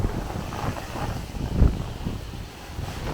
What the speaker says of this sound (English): You can see the wind coming through these alleyways.